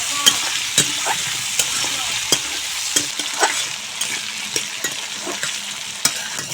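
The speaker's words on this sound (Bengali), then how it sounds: "সামান্য হলুদ গুঁড়া আর সামান্য লবণ দিয়ে আলু ভেজে নেব।" Potatoes fry in hot oil in a wok with turmeric and salt, giving a steady close sizzle broken by frequent sharp scrapes and clicks of a stirring spatula.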